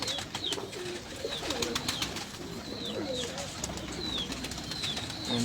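Pigeons coo on a rooftop, soft repeated low calls over a constant hiss of background noise.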